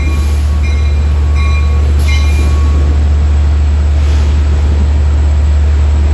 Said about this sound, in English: arriving track 4 is train 698, Hunters Point area to Port Jeff